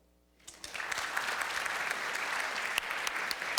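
After a brief quiet moment, an audience bursts into applause that swells quickly and holds steady as a dense, continuous wash of clapping.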